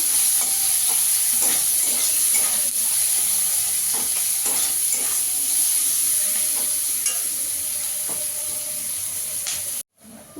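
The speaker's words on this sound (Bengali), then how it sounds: "পেঁয়াজটা একটু লাল লাল করে ভেজে নেবো" One large chopped onion fries in oil with a bay leaf, a loud continuous sizzle with repeated spatula scrapes and stirs, cutting off abruptly near the end.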